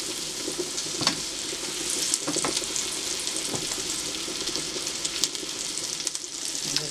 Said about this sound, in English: And now I'm going to add my pork chops. I'm going to fry about 4 minutes on each side.